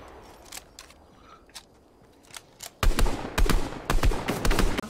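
Video game gunfire in a trio match with a tank on the field: a few sharp, scattered single shots, then dense, loud bursts of rapid fire that crowd together in the second half.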